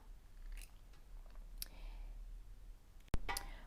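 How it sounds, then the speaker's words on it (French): Scissors snipping diagonally through a strip of fabric for homemade trapilho yarn, a few soft, quiet crisp cuts spaced apart, ending in one sharper, louder snip. "on va découper sur la première bande en diagonale"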